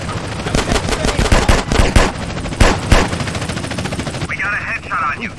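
Gunfire from a drive-by in GTA San Andreas, shot from a 2000 Chevrolet Impala unmarked car, with loud rapid automatic bursts and single shots overlapping excited shouting voices, ending in a steadier engine-like drone.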